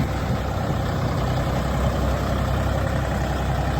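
A Dongfeng 244 Lux tractor on wide 11.2-24 tires idles nearby, a loud, steady low diesel rumble without change throughout.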